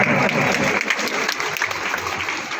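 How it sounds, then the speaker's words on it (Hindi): Loud crowd applause welcoming a central government minister at a Buddhist festival in Mirzapur, thick continuous clapping that stays strong throughout and eases slightly near the end. "एक बार जोरदार तालियों से पुनः अभिवादन करें"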